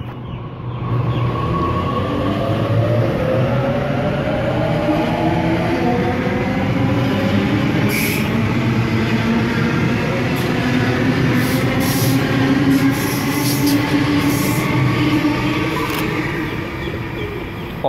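A Sydney Waratah electric train pulls out of the Cabramatta station platform: a loud, close, continuous rumble with a motor whine that climbs steadily in pitch as it gathers speed for nearly eighteen seconds, no voices.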